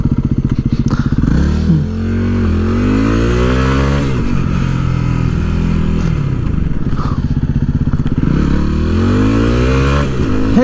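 A Yamaha WR250R dual-sport motorcycle engine runs close and loud, its steady buzzing idle rising and falling through several revs with a little mechanical clatter.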